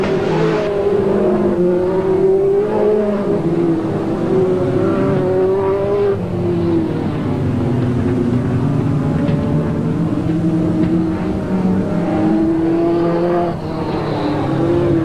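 Grand National sedan race cars circling a track, a loud sustained engine roar that rises and falls as the cars accelerate and pass, with no voices over it.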